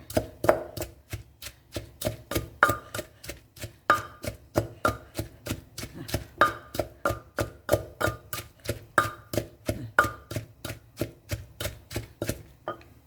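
Steady rhythmic pounding of ingredients in a mortar for a home-style Thai dish, about three to four sharp thuds per second, close and loud, continuing evenly without talk.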